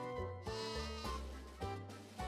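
Sheep bleat in the Final Fantasy III Pixel Remaster on PC, four or five loud, wavering game-sound cries repeating close together with no talk over them.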